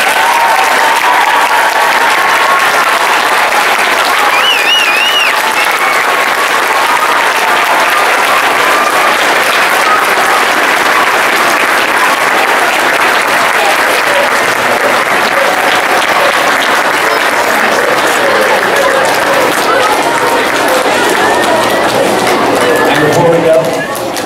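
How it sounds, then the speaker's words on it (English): A school assembly audience on Veterans Day claps in a loud, dense, sustained round of applause that runs unbroken for over twenty seconds before cutting off abruptly. "Can we give our wonderful performers another big round of applause?"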